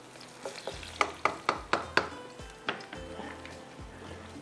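Onions and garam masala frying in a pan for beef biryani, with a spoon scraping and stirring in a run of sharp, evenly spaced strokes over a steady background sizzle, close and moderately loud, no talking.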